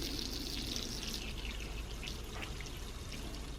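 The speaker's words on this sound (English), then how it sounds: "It drains from the sink into the basin below and this loop can go on forever." Water draining from a homemade recirculating sink into a basin below: a continuous close pour and trickle with splashy, bubbling texture, steady and fairly quiet, no talking.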